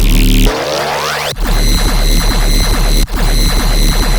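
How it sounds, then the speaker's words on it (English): Loud riddim dubstep sustain bass synth rumbling under gritty, rhythmically wobbling mid layers, preceded by a rising sweep and a brief dip before the full bass pattern kicks back in. "There's also a sustain bass in here."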